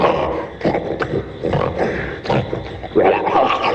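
A bear in an animated Jungle Book series lets out loud, close, guttural roars and grunts in several rough bursts of growling vocalization.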